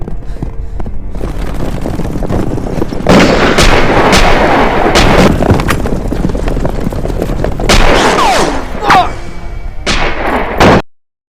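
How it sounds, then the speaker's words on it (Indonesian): Gunfire in a film scene, loud bursts of shots and booming blasts following one another over a dense rumbling battle bed, close and intense, ending abruptly. "Gazushi pun segera menembak Liu Bopeng"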